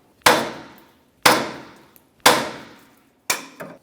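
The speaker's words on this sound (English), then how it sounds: "Let's give this a couple bonks with our hammer to break it free." Four sharp metallic hammer strikes on a wheel hub of a 2002-2005 Ford Explorer ring out one by one at roughly one-second intervals, each decaying quickly, with a faint tap between the later blows.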